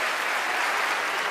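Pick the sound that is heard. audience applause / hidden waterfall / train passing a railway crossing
audience applause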